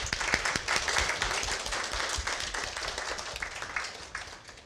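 Audience applause at a Ruby programming conference, a few seconds of steady, moderately loud clapping from a small crowd in a hall, with individual claps distinct at the start.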